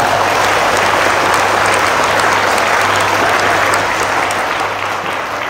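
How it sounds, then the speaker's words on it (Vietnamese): A large crowd of children and parents at a Buddhist teaching session gives long, loud applause, a dense, unbroken roar of clapping that stays strong and only eases slightly near the end. "một tràng pháo tay thật lớn thật dài"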